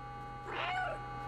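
A cat in the video game Stray gives a single drawn-out meow, close and clear over a low steady background hum.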